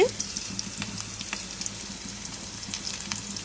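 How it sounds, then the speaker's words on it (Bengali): Chilli and onion frying in a pan with ginger and garlic, a close, steady crackling sizzle with occasional stirring clicks and no talking. "এখন আমি মরিচ এবং পেঁয়াজ হালকা লাল লাল করে ভেজে নিচ্ছি"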